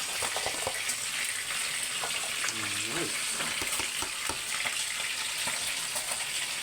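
Squash and vegetables simmering in coconut milk for Filipino ginataang kalabasa, stirred in the pot with a steady bubbling sizzle and clinking utensil scrapes, a brief voice murmuring partway through.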